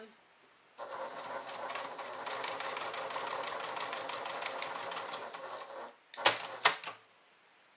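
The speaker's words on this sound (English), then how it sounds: "I'm going to go ahead and stitch this one last one" A sewing machine stitches a single quilting line on a leather clutch in a steady run of about five seconds, followed by a few sharp clicks and knocks as the work is handled.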